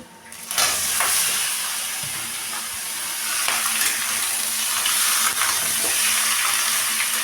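Chicken pieces with spices sizzling as they fry in a pan, a loud, continuous crackling hiss up close, punctuated by occasional sharp spits and pops of oil.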